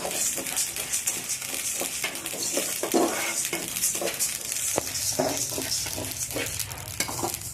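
Spices crackle and pop steadily in a hot dry pan, with occasional scraping and stirring clinks against the metal, close and continuous.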